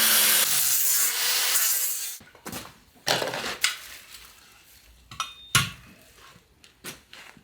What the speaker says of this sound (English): I'm going to cut a bit off this threaded section